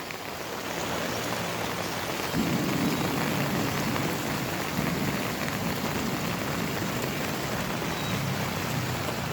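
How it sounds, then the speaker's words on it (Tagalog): Steady rain pours down, a dense hiss of drops striking surfaces, swelling slightly partway through, with no voices. "Sana wag nang lumakas ang ulan."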